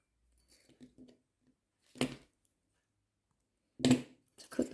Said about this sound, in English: I'm going to cut a little bit of wire off. To cut the bobbin free.